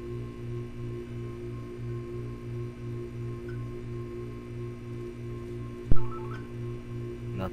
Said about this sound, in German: Na toll, Telefon klingelt.